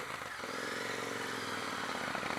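A Royal Enfield Continental GT 650 motorcycle rolls along steadily, its engine a continuous close rumble mixed with wind noise, with no talk over it for the short stretch.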